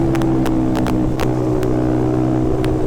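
A KTM Duke motorcycle fitted with an open-pipe aftermarket exhaust runs loud and steady in traffic, its deep, continuous engine rumble punctuated by sharp crackling pops.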